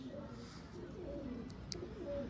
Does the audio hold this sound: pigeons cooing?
yes